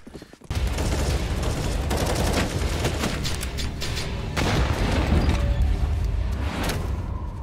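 Loud, dense bursts of gunfire and booming impacts begin abruptly and continue nearly without pause, crackling shots layered over a heavy rumble.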